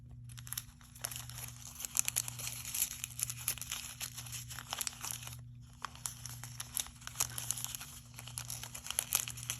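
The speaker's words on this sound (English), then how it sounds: "you're just sort of squeezing that paper around that staple that was in the center" Layers of tissue paper are squeezed and crinkled around a central staple to form a flower, close crackling and rustling in irregular bursts with a brief pause partway through, over a faint steady hum.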